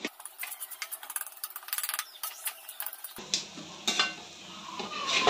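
A spice mix (masala) roasts and is stirred in a pan, with rhythmic scraping strokes over a sizzle that grows louder and hissier toward the end, close and alone.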